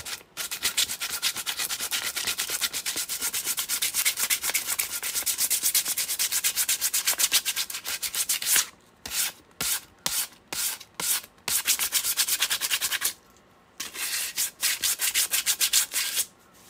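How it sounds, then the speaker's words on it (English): A UV resin coated PLA 3D printed skull is hand sanded in fast, steady rasping strokes, close and loud. The strokes break into short separate passes twice before resuming. "What I'm doing right now is taking this resin and sanding away anything that's not a skull."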